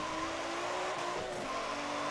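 A trophy truck in Forza Motorsport 7 drones with a sustained engine and turbo whine, quiet and steady, briefly wavering mid-way as it drives.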